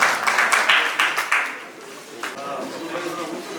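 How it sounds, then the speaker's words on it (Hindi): Applause at a 2022 Indian distinguished service award ceremony: a short burst of clapping from a seated audience that thins out midway, followed by murmuring voices and background chatter. "तालियां बजाएं साहब"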